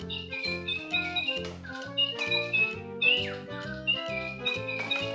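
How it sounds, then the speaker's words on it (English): A Little Live Pets Tweet Talking toy parrot sings an electronic melody of steady, repeating tones laced with high chirps and whistles, close and clear with no talking. "Besides singing, our bird can repeat our words."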